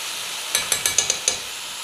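Chicken fillets sizzle in a hot pan, a steady bright hiss with several quick clicking stirs or scrapes partway through.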